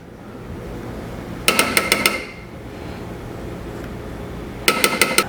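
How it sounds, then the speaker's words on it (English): A spoon stirring Korean-style pork belly sauce with gochujang and black pepper in a pot rings out in two quick bursts of rhythmic metallic taps against the rim, close and clear over a steady background hum. "I'm just gonna stir this up, bring it up to a boil"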